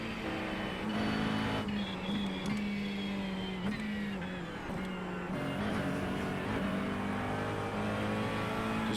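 Race car engine in the VR racing game RingMeister on the Nürburgring, droning and revving continuously at close range, with pitch dipping and climbing through gear changes.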